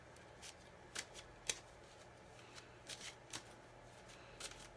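Gilded Reverie Lenormand cards being shuffled by hand, a series of soft, quiet riffling bursts at uneven intervals against a low steady background hum, with no voices.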